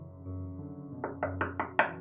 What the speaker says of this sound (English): She started banging on Danielle's door.